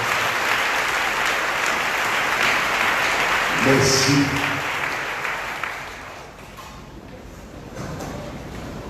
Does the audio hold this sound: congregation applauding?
yes